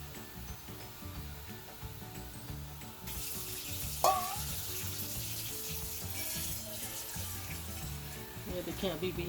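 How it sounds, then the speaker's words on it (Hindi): Water is poured into a cooking pot of saag, a soft splashing stream that starts partway through over a background sizzle, fairly quiet, while a person talks. "ये अभी इसमें पानी डाल रहे हैं"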